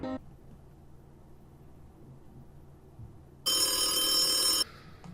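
A telephone bell rings once, a loud, bright burst lasting about a second near the end, cutting through an otherwise quiet room with low background hum.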